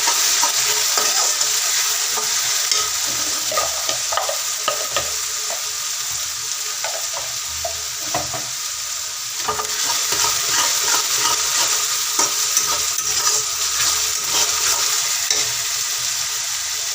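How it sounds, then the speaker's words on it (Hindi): Masala spices frying with bay leaf in a pan, a continuous close sizzle with frequent scraping and stirring clicks from a spoon against the metal, steady throughout. "तो मसाले को हम अच्छी तरह से भून लेंगे।"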